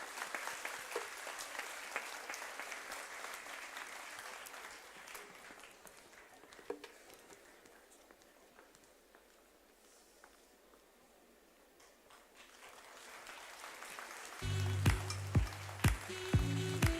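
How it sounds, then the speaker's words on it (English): Audience applause at a health conference, a steady roll of clapping from a large hall that thins to a soft patter midway, then swells again as louder sounds come in at the end. "Let's give them another huge round of applause"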